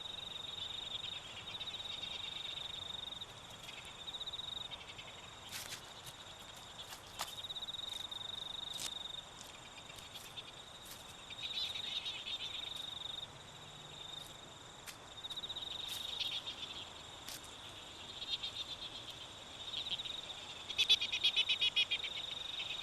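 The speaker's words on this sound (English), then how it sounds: "The weta is a primitive insect related to grasshoppers." A weta, a primitive grasshopper-like insect, chirps at night in a New Zealand forest. A steady, faint high trill repeats in long pulsing stretches, with occasional sharp clicks and soft rustles nearby.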